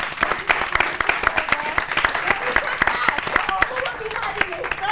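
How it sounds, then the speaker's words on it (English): A studio audience claps for a guest, dense and steady applause with sharp individual claps close by, lasting the full span. "let's give Dr. Alex Thomas a big hand of applause."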